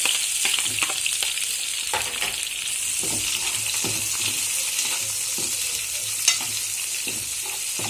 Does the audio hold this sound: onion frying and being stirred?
yes